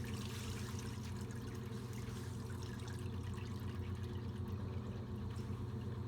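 Wet overalls are wrung through the rollers of a wringer washer, giving a steady watery trickle and squeeze with a low mechanical hum running underneath throughout.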